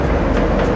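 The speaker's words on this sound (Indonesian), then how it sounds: "Wah, ada kereta lagi" A loud, close train rumbles past in a continuous heavy roar.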